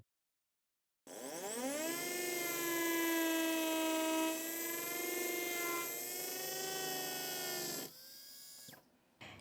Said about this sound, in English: Place it on the sleeve, on the guide, and start drilling.